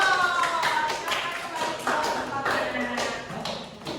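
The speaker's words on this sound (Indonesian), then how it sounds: "Tepuk tangan dong." Applause from a microteaching classroom session, a broad wash of claps in uneven bursts with some overlapping voices, fairly close and steady.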